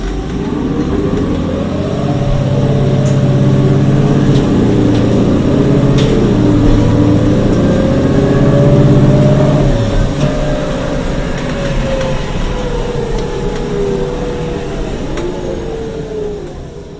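Orion 07.501 CNG transit bus repowered with a Cummins Westport ISL-G engine and Allison B400R transmission, its engine droning and rising in pitch as it accelerates, then easing off and fading slightly toward the end, heard close and alone.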